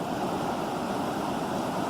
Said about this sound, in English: hearing the water rushing down here